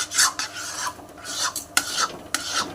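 A spoon scrapes and stirs bread barfi with ghee in a kadhai in quick, rough, repeated strokes with a faint sizzle underneath, close up and without talk.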